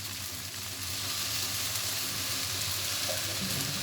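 Pasta sizzles steadily in a pan on the stove as soy sauce is added, a dense, even frying hiss that holds at the same level throughout with no talking.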